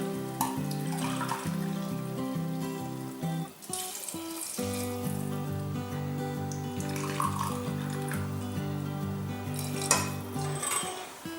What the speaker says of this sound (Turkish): Üzerine sıcak su ilave ediyorum.